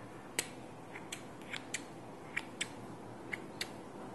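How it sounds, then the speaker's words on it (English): Metal scissors are picked up and handled from a pencil case, giving a series of sharp, quiet clicks and snips spaced irregularly over near-silence. "A scissor in here as well."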